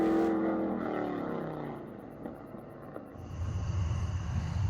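A supercharged 6.0 LS truck engine in street racing revs hard through the gears, its pitch climbing, dropping briefly and rising again as it pulls away.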